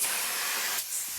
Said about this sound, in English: the bottom of the trailer seems like a good place to test my spray pattern